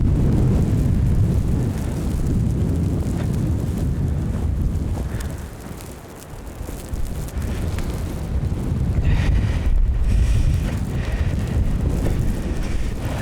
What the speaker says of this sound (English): look at all the wind. Well, let's get some B-roll of the wind.